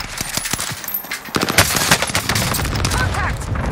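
Call of Duty Warzone gunfire during a duos Rebirth match with a Kilo 141: scattered shots, then dense sustained automatic fire and overlapping bursts, loud and close amid battle noise.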